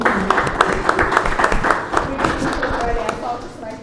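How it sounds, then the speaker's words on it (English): An audience at a business panel event claps in a steady, dense patter that continues throughout while someone speaks over it. "Can you please clap for her?"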